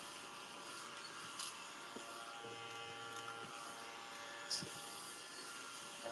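A small handheld mini vacuum with a weakening low battery, running as a steady faint electric buzz and whir at a paper crafting table, with a few light clicks and bumps.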